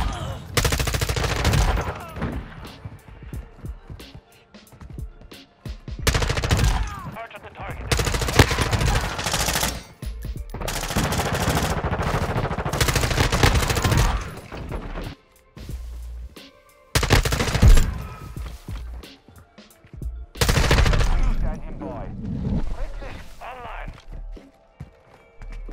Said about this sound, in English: This gun is just like the Honey Badger in Modern Warfare 2.